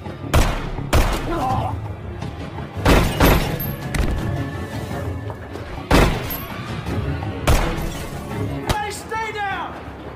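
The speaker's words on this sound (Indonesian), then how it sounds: "hingga terjadi baku dor-doran" Gunshots ring out repeatedly in a film shootout, loud booming cracks spaced irregularly over a dense soundtrack, with a voice narrating throughout.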